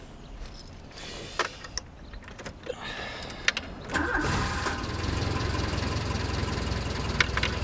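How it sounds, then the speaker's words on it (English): A car engine cranks with a few clicks and thumps, then catches and settles into a steady mid-pitched idle that runs on to the end, close and moderately loud. "Sort of like part of the engine noise"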